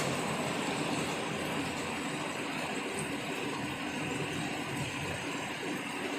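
A steady, loud rushing roar with rattling and clatter continues throughout as a train passes close by in Bangkok, with rain mixed in.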